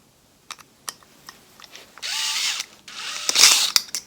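Power driver turning a screw with a Torx bit during an outdoor mounting of a Wyze Cam v2 smart camera: short ratcheting clicks, then two sustained bursts of close, buzzy driving with a sharp tick between them.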